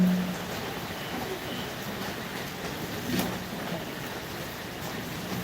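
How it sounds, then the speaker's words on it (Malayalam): Steady heavy rain on a rainy day at a home in Kerala, a dense, even hiss and patter at moderate distance throughout, with no distinct breaks. "ഇന്നലെ തുടങ്ങി മഴയാണ്"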